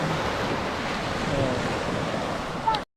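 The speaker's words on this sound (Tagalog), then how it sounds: "Nag-aabot na yung dagat." Sea waves wash steadily onto the sandbar shore of Kalanggaman Island, a continuous close rushing surf mixed with wind buffeting the microphone.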